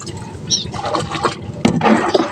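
Water is being bailed out of a boat that has taken on a lot of water, with steady sloshing, splashing and scooping close by and one louder splash near the end.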